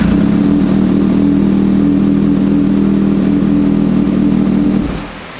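A Kawasaki Ninja 600 motorcycle engine runs steadily nearby at a loud, even idle with a throbbing low rumble, then quickly fades toward the end.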